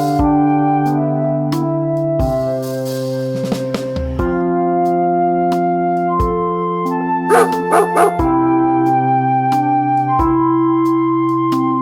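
Dogs bark and yip repeatedly in clear, close bursts over a sustained musical backing, with a cluster of sharp yelps near the middle.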